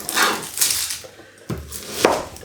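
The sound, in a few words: knife cutting an onion, topping and tailing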